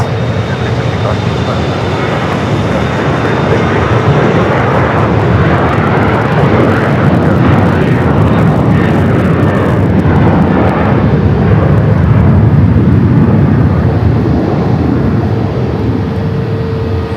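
Loud, continuous roar of a Frontier Airbus A320neo jet at Phoenix Sky Harbor airport, a broad rumbling engine wash holding steady and close throughout.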